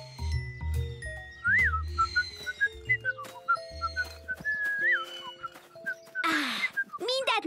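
Children blow into empty soda cans, making wavering, whistle-like tones that rise and dip in short repeated calls over a bright musical background, with a breathy burst near the end.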